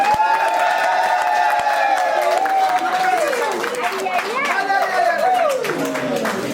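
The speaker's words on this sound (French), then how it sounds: "On applaudit le gars qui arrive." Crowd at a dowry ceremony clapping and cheering a man as he arrives, a dense continuous wash of applause and excited voices with shouting and chatter throughout, fairly loud and close.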